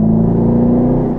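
A car pulls away from a standstill in first gear, its engine holding a steady, loud drone with a strong low hum throughout, heard from inside the cabin with no talking.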